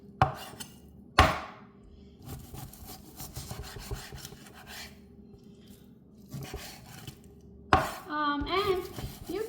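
A knife slicing beef into strips on a cutting board, giving sharp knocks against the board and soft rubbing strokes, with a few louder chops and some clattering toward the end.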